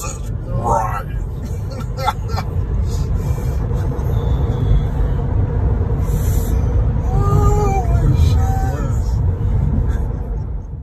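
A Tesla Model 3 launches in a 0-60 mph run, a low steady rumble of road and cabin noise building under continuous talking inside the car.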